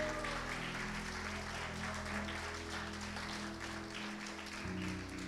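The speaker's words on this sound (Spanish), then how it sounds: "Denle un aplauso al Señor." A church congregation applauds in praise, a steady dense wash of clapping from a large crowd that holds at an even level throughout, with a low sustained organ or keyboard tone underneath.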